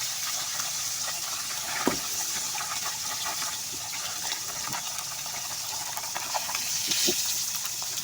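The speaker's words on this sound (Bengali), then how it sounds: "অবশ্যই মাছটা একটু সময় নিয়ে ভাজতে হবে, যেহেতু আস্ত একটা মাছ" A whole fish fries in hot oil in a wok, giving a steady, close hiss and sizzle with a couple of soft scrapes as it is turned, no talk.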